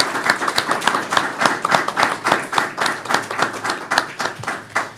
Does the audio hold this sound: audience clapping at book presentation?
yes